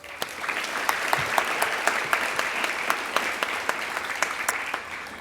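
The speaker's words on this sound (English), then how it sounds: "if we could still give her a round of applause" An audience at a young writers' conference award ceremony claps for an absent winner, a steady, dense round of applause with no talking.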